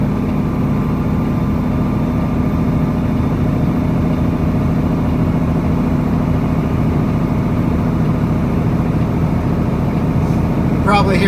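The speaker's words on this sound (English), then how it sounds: "You're probably hearing the tone of the engine." A steady, loud low engine drone from inside a truck speeding up downhill, constant and rumbling throughout with no clear change in pitch, plus faint rattles near the end.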